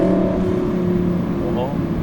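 An Audi R8 with a custom variable exhaust in comfort mode drones with a low, steady engine tone and a slight rise near the end, heard up close alongside a speaking voice.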